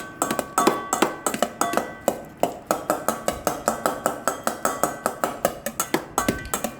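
Steady, rapid knife chopping of grass jelly on a board, about three sharp strikes per second, close and crisp, with no talking.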